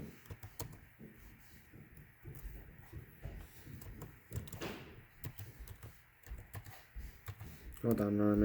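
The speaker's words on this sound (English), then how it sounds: "hold on, I'm typing something" Quick, uneven clicking of a computer keyboard typed one-handed, close and faint, with irregular bursts of keystrokes and a louder thump near the end.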